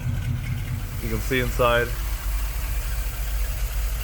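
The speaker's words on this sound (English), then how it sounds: "So there you go, it's idling nice and smooth." A 6.6L engine in a Chevy G30 ambulance, fitted with EFI, idles with a steady low rumble, and a person talks briefly over it.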